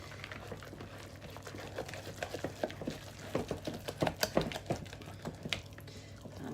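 Freefrom hot cross bun dough with dried fruit being worked by hand, giving soft, irregular squelching and tapping sounds that cluster more densely in the middle, close up with no talking.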